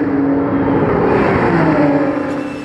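Race cars lapping the Paul Ricard circuit during a Sunday evening race, a steady, loud engine drone that swells slightly as cars pass, with no voices.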